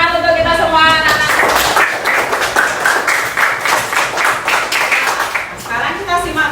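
Children clap together in a classroom, a dense burst of many small hands rising from their voices and holding steady for several seconds, with a teacher's voice and kids' chatter heard over it before and after.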